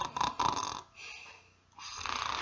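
A storyteller imitates a sloth snoring, with two loud rasping snore sounds separated by a softer breathy pause, close and alone.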